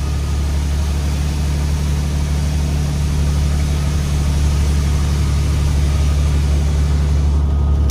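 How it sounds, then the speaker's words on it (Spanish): A car engine heard from inside while driving uphill on a mountain road, a steady low droning hum that stays constant and fairly loud throughout, with no talk. "Se ve como ahí el ruido del carro"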